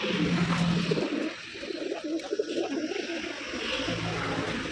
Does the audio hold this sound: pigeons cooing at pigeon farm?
yes